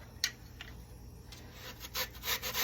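Raw potatoes are scraped against a hand grater in a home kitchen while making Sicilian potato scacciata, a few soft rasping strokes spaced apart at first, then quicker and louder near the end, with no talking.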